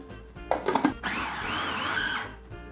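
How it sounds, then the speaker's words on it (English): A food processor whirs as eggs are beaten into ham and cheese gougère choux dough, starting with a few uneven bumps and clunks before settling into a steady, fairly loud mechanical hum. "the joy of doing this in the food processor is a lot less mess"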